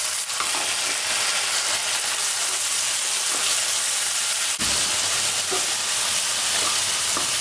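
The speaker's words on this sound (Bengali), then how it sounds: "রসুনের কাঁচা গন্ধটা চলে যাওয়া পর্যন্ত একটু নাড়াচাড়া করে নিচ্ছি" Ginger, garlic and green chilli paste fries with onions in oil, giving a loud, dense, constant hiss with faint stirring scrapes and one sharp knock midway; close and unbroken, no voices.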